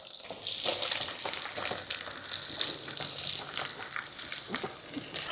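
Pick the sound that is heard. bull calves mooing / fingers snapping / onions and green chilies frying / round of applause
onions and green chilies frying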